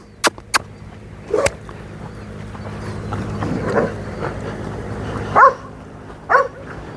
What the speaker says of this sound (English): Some dogs out here.